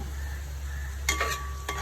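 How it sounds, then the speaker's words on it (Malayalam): Three sliced onions fry in a pan for beef kurma, a steady close sizzle with a few stirring scrapes of a utensil near the end. "നമുക്ക് കുറുമയ്ക്കുള്ള ഉള്ളി സവാള മൂന്നെണ്ണം വറുത്ത് കൊടുക്കാം"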